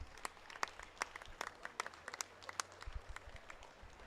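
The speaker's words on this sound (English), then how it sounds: "Big round of applause for everybody" Faint applause for the referees, volunteers and coaches at a swim meet, scattered claps from a modest crowd echoing in a large pool hall, quiet and distant with a low hum underneath.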